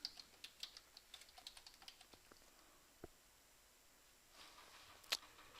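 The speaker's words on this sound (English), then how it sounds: "typing over the top now" Quiet typing on a computer keyboard, a rapid run of light key clicks at first, then a few scattered taps and a sharper click near the end, close and alone.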